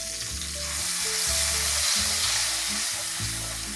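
Onion and turmeric paste fries in a pan of hot oil with cumin seeds, curry leaves and asafoetida, giving a loud, continuous sizzle close by, while a low hum runs underneath.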